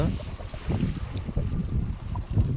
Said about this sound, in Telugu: గాలి కూడా ఎక్కువ ఉంది